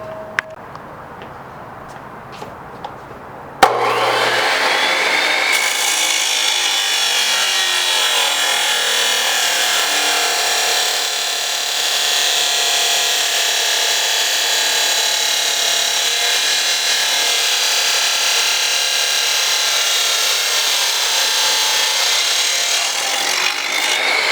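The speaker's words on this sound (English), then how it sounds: "I cut the first piece as well as drilled 2 holes" Angle iron being cut with a power tool for a homemade go-kart build: after a few seconds of quiet handling, a loud, steady grinding whine begins and runs continuously to the end, with no speech.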